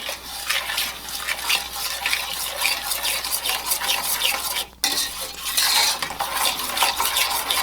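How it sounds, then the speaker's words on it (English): Water being stirred in a saucepan over medium heat for peanut brittle, with a steady scraping, swishing spoon sound that stays close and constant, broken only by one brief pause near the end. "And stir it together."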